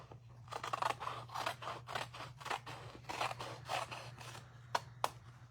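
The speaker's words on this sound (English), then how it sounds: "I'm just going to cut these in rows," Scissors cutting paper into rows for a craft project, a steady run of close, crisp snips repeating every half second or so over a low steady hum, with two sharper clicks near the end.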